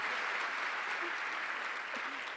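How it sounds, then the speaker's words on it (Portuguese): Audience applause for a boss at an entrepreneurship talk, a steady dense wash of clapping lasting throughout, moderately loud, with a faint voice briefly audible over it. "Pode dar uma salva de palmas para o meu chefe aí, gente?"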